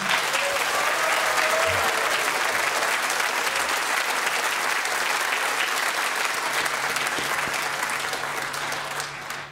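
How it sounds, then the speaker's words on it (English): Studio audience applause recorded before the pandemic for a radio quiz show, a steady, dense round of clapping that holds evenly throughout and tapers slightly at the very end. "we send you on your way with a sweet-sounding round of applause recorded before the pandemic robbed us of audiences"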